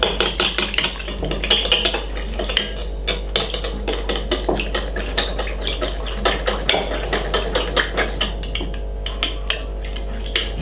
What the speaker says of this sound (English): Just whisk it up for a second.